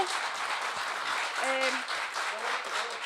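An audience at a political election meeting in Qaqortoq applauds steadily, a dense wash of clapping with a voice speaking over it.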